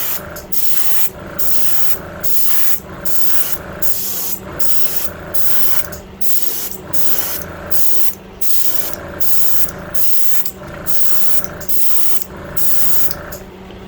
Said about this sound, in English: I'm going to spray it down to the white base